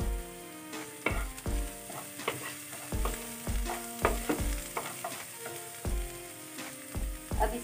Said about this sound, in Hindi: अब इसमें ऐड करते हैं हरी प्याज,